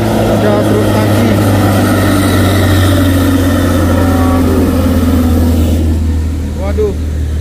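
A trailer truck's engine drones low and continuously as it labours up the steep Bukit Kodok climb, with road noise throughout and people talking over it.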